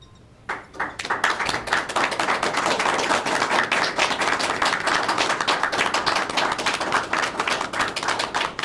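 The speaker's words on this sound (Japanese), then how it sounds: "拍手でお迎えください" A press-conference audience breaks into steady applause as a player is welcomed in, dense clapping starting after a brief quiet moment and continuing evenly at close range throughout.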